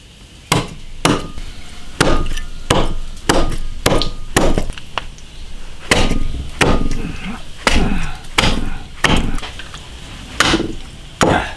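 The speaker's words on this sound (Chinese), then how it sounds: "鱼杀好了，现在就把它剁了去。" A whole 5-jin longsnout catfish, just gutted, is hacked into pieces: about fifteen loud, close, sharp chops in an uneven rhythm, with no voices.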